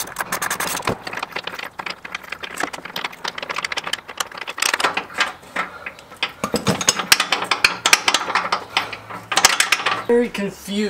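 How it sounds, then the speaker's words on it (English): Hand ratchets loosen the 21 mm and 18 mm bolts on the K-member of a 1996–2004 Ford Mustang. Rapid, uneven bursts of close metallic ratchet clicking run throughout, with short pauses between them. "We're gonna need to get two ratchets on here to hold it."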